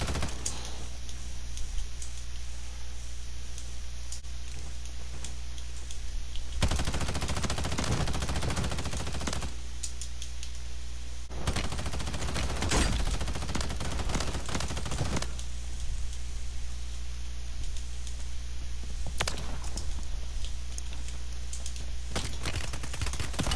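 Call of Duty gameplay gunfire rattles in several sustained automatic bursts separated by brief pauses, loud and close over a constant background hum.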